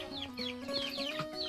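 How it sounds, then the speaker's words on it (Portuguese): Chicks in a henhouse chirp and cluck in quick, overlapping peeps, close and fairly soft, over a brief stretch with no talking. "Olha lá, pessoal, os pintinhos ali, ó."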